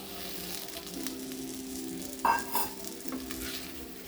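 Six eggs fry in a pan over low heat, giving a steady soft sizzle with a low hum underneath and a couple of sharper clinks and scrapes from stirring near the middle.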